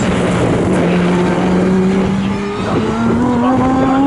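An Aston Martin V8 Vantage GT2 race car at Snetterton during a qualifying flying lap, its engine note droning loud and steady as it passes close by, pitch gently rising and falling.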